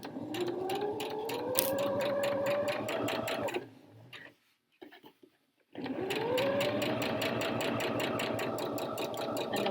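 A sewing machine runs steadily while stitching a jacket seam, loud and close with a rapid even hum. It stops briefly for a couple of seconds of near silence, then starts up again at full speed.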